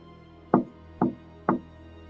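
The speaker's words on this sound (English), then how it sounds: "It was a soft tapping sound." Three soft, evenly spaced taps, about half a second apart, each short and dull, against a quiet background.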